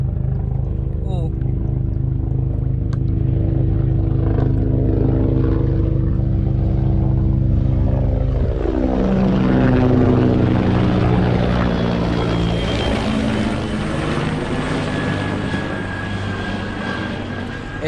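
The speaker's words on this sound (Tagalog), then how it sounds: "Epal yung helicopter na yun ah." A helicopter passes overhead above Manila Bay, its heavy low rotor drone loud and steady before the pitch shifts as it moves away, with people talking over the noise.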